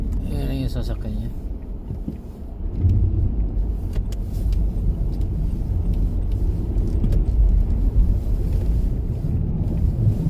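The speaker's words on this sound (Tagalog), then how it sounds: "yan yung sasakyan niya." A car drives along, its low engine and road rumble steady and close throughout, with wind buffeting and people talking over it.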